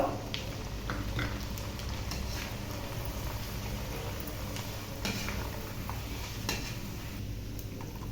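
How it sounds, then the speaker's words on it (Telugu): Pressed rice flakes sizzle steadily in hot oil while being fried for an onion snack mixture, a continuous close crackle with occasional light clinks of a utensil against the pan. "ఇప్పుడు మిగిలిన సగం కూడా వేసుకొని వేయించుకుందాము."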